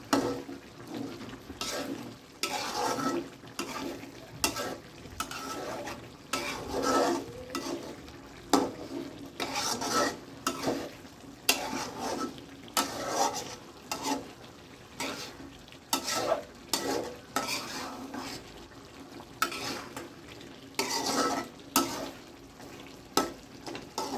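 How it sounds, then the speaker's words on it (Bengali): Food cooking in a pot is stirred in repeated scraping, rattling strokes that come in rhythmic bursts over a low sizzling bubble, fairly quiet and close. "একটু নাড়া দিয়ে আবার ঢেকে দেবো।"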